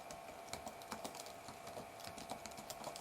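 Rapid clicking keystrokes on a computer keyboard while Python code for a countdown timer is entered, an irregular close-up patter of key taps with no voices.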